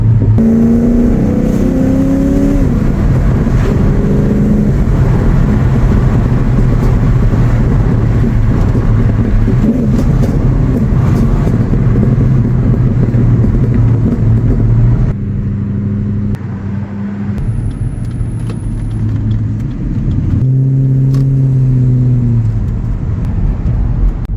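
A Ford Falcon XT turbocharged Barra engine with automatic transmission rumbles and revs steadily for a long stretch, loud and close, its pitch rising and falling with throttle changes, with exhaust pops.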